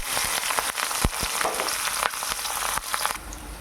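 Onion and chili frying in hot oil with cumin, a loud dense sizzle with crackling pops and occasional stirring knocks, close and continuous without talk.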